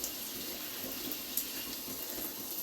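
Shower water runs in a steady, even hiss, the spray close and constant with only tiny splashes breaking through, and no one speaking.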